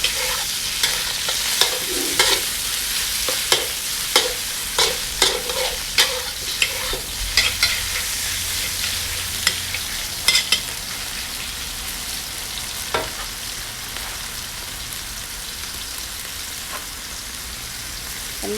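Water spinach stir-fried with garlic in a hot pan: loud, continuous sizzling broken by repeated scraping stir strokes during the first half, then settling into a steadier sizzle, with no one speaking.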